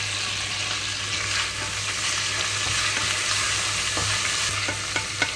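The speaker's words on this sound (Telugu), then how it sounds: "ఇప్పుడు ఇందులోనే కట్ చేసి పెట్టుకున్న పుదీనా అలాగే కొత్తిమీర కూడా వేసేస్తున్నాను" Mint and coriander fry with ginger garlic in a pan, giving a steady soft sizzle with frequent stirring scrapes and light clinks, close by and without talk.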